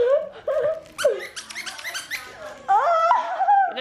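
Puppy playing, giving high whimpers, yips and short growly barks close by, loud and lively, with a person's laughter mixed in.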